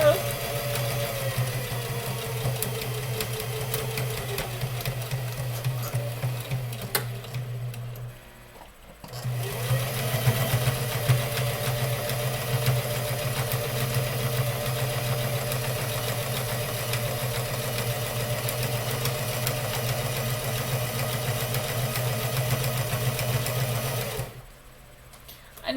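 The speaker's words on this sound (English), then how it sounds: "Then make sure your foot pedal is where you want it. Here we sew." A domestic sewing machine stitching fabric, its motor running at a steady hum in two long bursts with a brief pause between, close and fairly loud; a voice talks faintly underneath.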